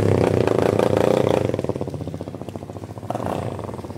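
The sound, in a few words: Yamaha Fazer 250 motorcycle revving, original exhaust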